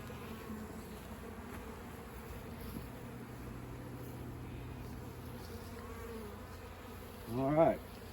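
A honeybee swarm buzzes in a continuous, layered drone, close and steady, with a brief louder buzz near the end as a bee passes the microphone.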